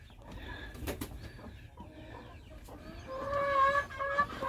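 A naked neck hen clucks and murmurs close by on a backyard farm, with short irregular calls that grow louder and more drawn out toward the end.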